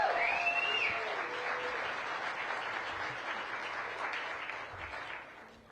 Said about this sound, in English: Give them a round of applause, our workers.